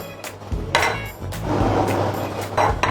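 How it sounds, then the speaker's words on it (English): A metal frying pan clanks and scrapes against a surface in a few close knocks and clatters, with faint kitchen rustling between them. "Grab a frying pan."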